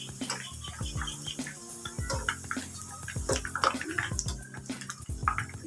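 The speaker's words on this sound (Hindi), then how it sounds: "बहुत ही ज़बरदस्त फ्राई हो रहे हैं" Noodle pakoras deep-fry in hot oil with a continuous bubbling sizzle, sprinkled with small pops and crackles. It is heard close and fairly loud throughout.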